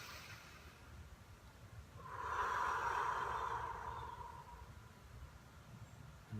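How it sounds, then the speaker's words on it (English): A group draws one long, deep breath together, a soft, breathy rush that swells over a couple of seconds and then fades, heard faintly against quiet room tone. "Let's take a deep breath together."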